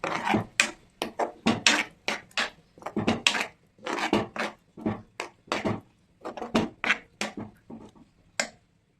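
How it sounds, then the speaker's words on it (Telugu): A spoon scrapes and stirs tomato puree into a potato tomato curry in a pan, repeated rhythmic rasping strokes close up, each burst short and separated by brief pauses. "ఇప్పుడు ఈ టమాటో ప్యూరీని దాంట్లో కలిసేలాగా కలుపుకోవాలి"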